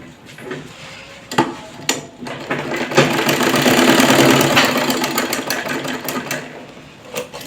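Sewing machine stitching the sides of a simple straight kurti, a continuous mechanical whir that rises and fades with several sharp knocks and clicks, close and alone.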